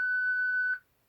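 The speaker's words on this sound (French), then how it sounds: "Veuillez dire le nom de la personne qui est en face de vous après le bip sonore." A single clean electronic beep from an OrCam MyEye assistive device sounds for under a second, clear and close against near silence before it cuts off.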